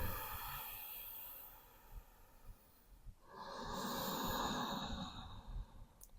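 Two slow, steady breaths, a long airy one and then another after a short pause, drawn during a breath-centred vinyasa yoga flow. Soft and close, with no talking.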